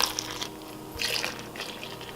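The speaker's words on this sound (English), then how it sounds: "Now I will add water." Water is poured into a dry bread dough mix in a bowl, giving soft, brief liquid splashes and trickles, quiet and close, with no talking.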